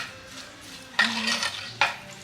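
A spoon stirs a pot of Kerala prawn rice tempered with coconut oil, shallots, curry leaves and chili flakes, giving a soft background sizzle broken by two sharp scraping strokes against the pot.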